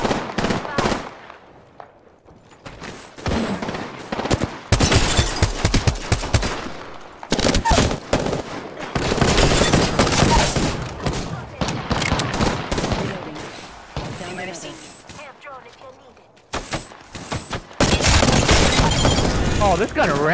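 Gun in Apex Legends firing long, loud automatic bursts separated by brief pauses, with voices talking over parts of the gameplay.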